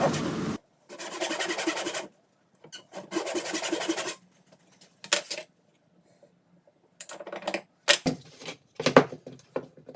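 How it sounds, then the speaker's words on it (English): A hand saw cuts tenon shoulders in wood for a homemade adjustable weights bench, with bursts of close, rasping back-and-forth strokes separated by pauses and a few short knocks. "Here I'm just starting to cut the shoulders for the tenons."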